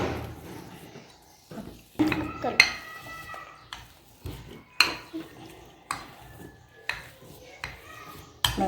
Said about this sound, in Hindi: तो ये मैं मैश करने लगी हूँ।